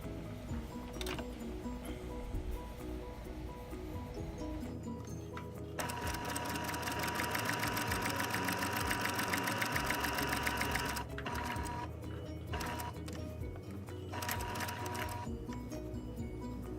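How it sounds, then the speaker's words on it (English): A sewing machine stitches around a patch pocket in quick, rhythmic bursts, loud and close, with a long steady run in the middle and short pauses between runs. "I can stitch completely around each pocket"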